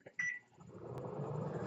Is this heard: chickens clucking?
no